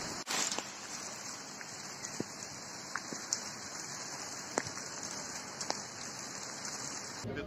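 Heavy tropical rain pours in a dense, steady hiss, broad and constant, with scattered sharper drops and taps standing out now and then against the downpour.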